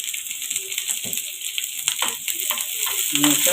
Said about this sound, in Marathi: मिरच्या टाकायच्या आहेत त्यात मध्यम आचेवरच ठेवायचं आहे आणि कढीपत्त्याची पानं